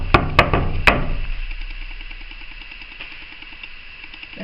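Three or four sharp knocks on a heater sound close together at the start, then fade into a quiet low hum with faint ticking.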